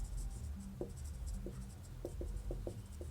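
Marker or chalk writing on a classroom board during a Class 12 differentiation maths lesson, a series of short, faint scratching strokes in an irregular rhythm over steady room hum.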